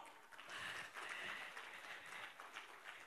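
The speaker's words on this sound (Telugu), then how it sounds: "ఒకసారి గట్టిగా చప్పట్లు కొడదావా?" Faint audience clapping at a celebration marking fifty days of the film HanuMan, a soft patter that swells briefly and tapers off, heard at a distance.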